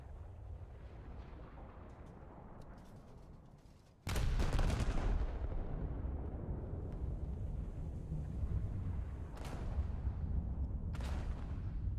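A torpedo strikes an enemy ship in a naval battleship game, setting off a sudden loud blast at about four seconds. Rumbling explosions and crackling impacts follow, with a few sharper hits later.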